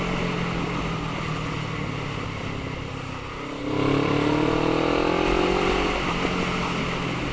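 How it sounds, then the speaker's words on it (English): A motorcycle fitted with a new Black Widow exhaust drones steadily, then its engine note rises sharply as it accelerates past the midpoint, loud and sustained with a wind-like rush. "I'll be talking about my new exhaust I have obtained today"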